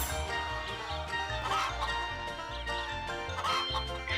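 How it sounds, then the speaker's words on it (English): A hen clucks in a Pac-Man Party minigame, with short repeated clucks set against a looping bouncy game tune and rhythmic bass, fairly quiet and steady with no talking. "that's a big ass hen"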